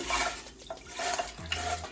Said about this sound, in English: We're just gonna pour it all inside